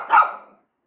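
A pet dog gives one short, fairly quiet bark that fades quickly, heard alone with no talking.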